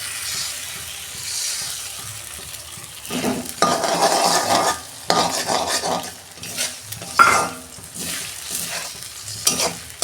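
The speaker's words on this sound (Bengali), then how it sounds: "এই যে দুটো ডিম ফাটতে দিয়ে দিচ্ছি" Two eggs hit a pan of sizzling, well-fried spice paste, followed by steady stirring with scrapes and clinks over a continuous close frying hiss, with no voices.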